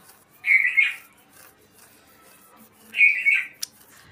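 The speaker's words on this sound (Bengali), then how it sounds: "দেখো পাখির কি চিল্লা চিল্লির" Two loud, shrill bird screeches about two and a half seconds apart cut through a quiet room. A brief sharp click follows the second call.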